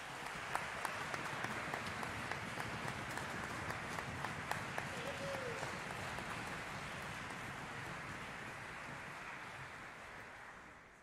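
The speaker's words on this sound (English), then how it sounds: "Can we give another round of applause for the choir," An audience applauds a school choir at a Columbus Academy concert in a borrowed community venue, a steady wash of clapping held evenly for about ten seconds before thinning slightly at the end.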